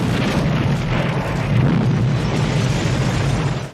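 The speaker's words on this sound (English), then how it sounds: "The soul transference causes a massive explosion" Massive explosion in a Chucky horror film, a loud sustained roaring blast that rumbles steadily for several seconds before cutting off.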